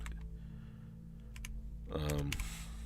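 Keys tapped on a computer keyboard: a few scattered clicks over a low steady hum, then a quick cluster of keystrokes at the end, with a voice speaking briefly.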